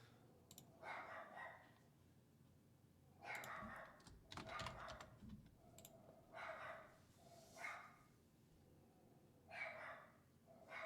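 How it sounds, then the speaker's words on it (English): A dog barks in short bursts somewhere in the background, repeating every second or two, while keys click steadily nearby. "sorry if you can hear my dog barking away"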